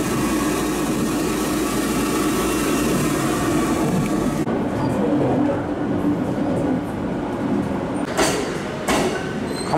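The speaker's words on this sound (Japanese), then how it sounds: "貨物列車が出るのと合わせてちょうど来ました。" A freight train pulls out of a Japanese station, a steady loud rumble of rail cars and engine filling the whole stretch, easing slightly midway with a few sharp hisses near the end.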